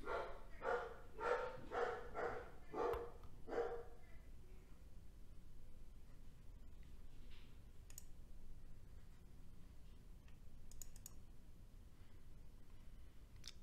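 A dog indoors barks about five times in a quick, evenly spaced burst over the first four seconds, then goes quiet, leaving faint clicking and low background hiss.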